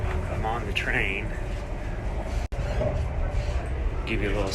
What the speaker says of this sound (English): So, I'm on the train.